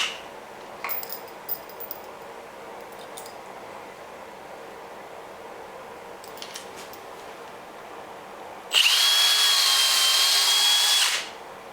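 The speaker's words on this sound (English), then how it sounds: "I'm going to drill these out to 3/16." A power drill bores a hole out to 3/16 inch in wood in one loud, steady burst of about three seconds near the end, following quiet handling noises.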